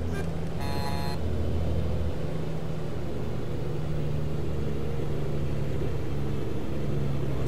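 A Kenworth T80 truck engine labors steadily up a steep Colombian grade, a loud continuous low rumble with a brief higher tone near the start as gears are worked.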